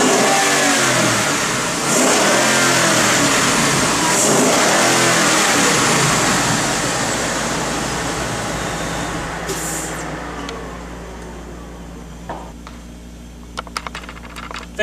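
A 2011-2014 Ford Mustang GT fitted with an Airraid MXP cold air intake revs loudly and close up in a sustained, roaring run that eases off gradually, ending with a few light clicks.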